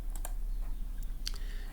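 A few crisp clicks from a computer keyboard, including an Enter key press, come during Grease Pencil animation work, close and fairly quiet over a low steady room hum.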